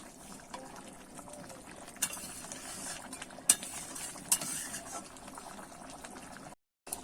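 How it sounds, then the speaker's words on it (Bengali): A Bengali rupchanda fish curry, tel jhal, simmers gently in a pan, a soft bubbling hiss with a few sharp clinks of a utensil, ending in a brief silence. "এবার একটুখানি কিন্তু হালকা করে আমি ফুটিয়ে নেব খুব বেশি ফোটাবো না"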